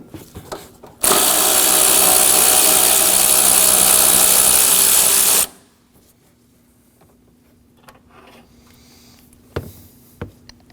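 A power tool whirs loudly for about four seconds, steady and close, while removing a 10mm bolt from the engine mount of a 2016-2022 Honda Pilot 3.5L V6, then stops, followed by quiet handling clicks.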